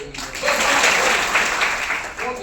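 Audience applause at a Sunday business plan show, a steady wash of clapping filling the room at moderate loudness, with a voice or crowd murmur threaded through it.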